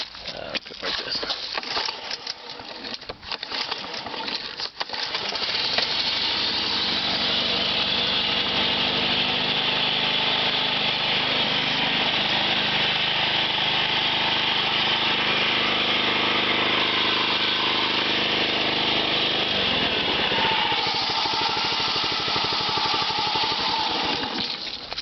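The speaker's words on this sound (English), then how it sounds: "Pretty sure that's a Kawasaki motor." Kawasaki-engined 21-inch lawn mower cold starting: a few seconds of rough sputtering cranking, then the small engine catches and settles into a loud, steady close-up idle with a shift in tone near the end.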